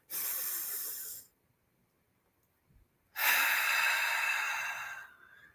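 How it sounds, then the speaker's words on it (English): Two long, deep breaths drawn in through the nose and pushed out, close and airy, each a sustained rush separated by a quiet pause. "It is to take some deep breaths in through your nose"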